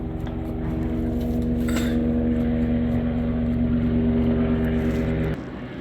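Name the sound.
military helicopter flying over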